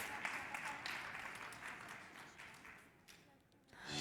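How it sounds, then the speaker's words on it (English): An audience at an EU ECO-TANDEM award ceremony gives a round of applause, a dense wash of hand claps that holds steady and then thins out toward the end, with a voice briefly audible. "Again, a big round of applause"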